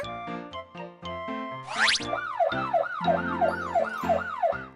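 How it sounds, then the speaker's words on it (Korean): A cartoonish police car siren wails, sweeping up and down repeatedly in a fast cycle, following a short musical intro and a rising whoosh, in a children's song. "멋진 경찰차가 삐뽀!"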